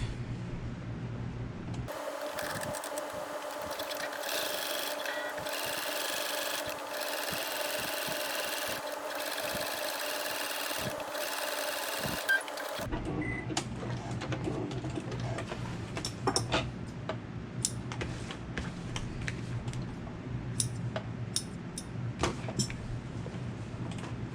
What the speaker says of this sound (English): we are going to top stitch through the interior lower panel and the seam allowance of the upper contrast piece.